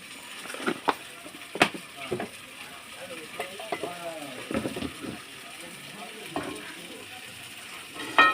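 Eggplant frying in a pan, with a steady sizzle under repeated scraping stirs and spatula knocks against the pan, and a voice speaking intermittently over the cooking.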